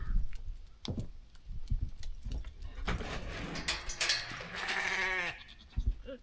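Goats bleating loudly during hoof trimming in a barn, with several wavering bleats close by among scuffling and clatter, and one long drawn-out cry near the end.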